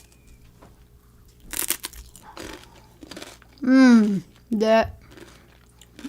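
Someone bites into crunchy bacon guacamole dip, a Colombian recipe, with a few crisp, close crunches of chewing, followed by a voice speaking.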